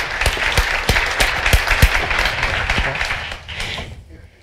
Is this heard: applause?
yes